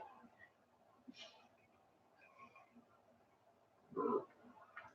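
A single short sneeze bursts out near the four-second mark amid quiet background murmur and faint voices.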